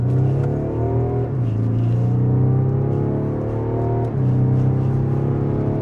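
A BMW 840d's inline diesel engine revs in a steady drone, pitch rising and dipping twice as the throttle changes, close by and loud.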